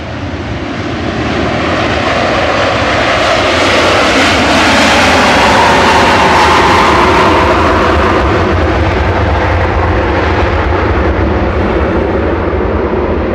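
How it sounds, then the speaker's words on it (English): Virgin Atlantic Airbus A330-300 registered G-VGEM departs Manchester Airport for Atlanta, its loud, steady jet engine roar building to a peak mid-clip and staying strong as the widebody climbs away, with no voices. "Departing first of all is Virgin, heading back to Atlanta with VS 109."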